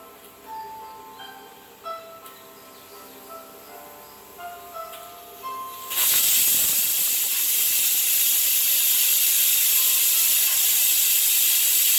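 A pressure cooker making Goan chicken cafreal pulao releases steam in a sudden loud hiss that starts midway and holds steady to the end, after quiet clicking and faint tonal kitchen sounds, close by, with no voices.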